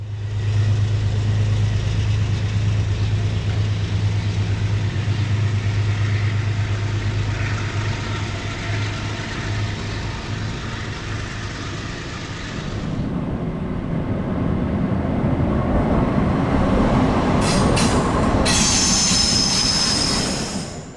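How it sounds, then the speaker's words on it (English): A Metro-North commuter train pulling out of Merritt 7 station toward Danbury, wheels squealing and grinding loudly and steadily, with a rumbling roll that shifts as the cars pass, ending with brief high metallic screeches. "Train 1868 departs Merritt 7 towards Danbury with MTA 6105 Cheer of the Clouds bringing up the markers"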